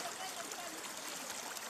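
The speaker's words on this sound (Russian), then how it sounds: "вот смотрите, вот это вот ручей уходит туда." A small mountain stream in a forest gorge near Krasnodar flows steadily, a continuous broad rushing and trickling wash of water that stays at an even level throughout.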